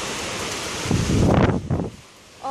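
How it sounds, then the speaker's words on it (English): Strong wind gusts roar through a summer rainstorm, swelling loudly for about a second amid steady rain hiss, then a second gust before easing off. "Okay, now it's getting windy."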